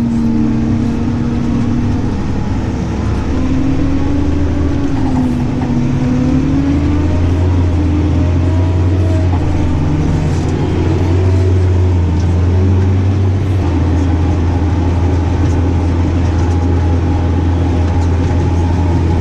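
Steady road traffic rumbling past a tractor towing a vintage Triffit muck spreader on a main road, with continuous engine drone and passing vehicle swells throughout.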